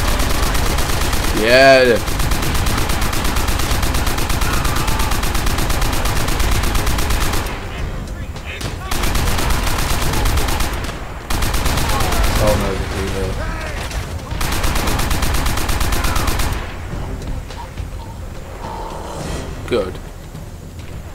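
Rapid machine gun fire rattles through a Call of Duty World at War battle in long sustained bursts broken by short pauses, mixed with battlefield noise and shouted voices.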